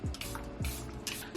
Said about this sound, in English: Best setting spray ever, Charlotte Tilbury.